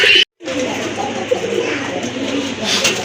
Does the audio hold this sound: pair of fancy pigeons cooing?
yes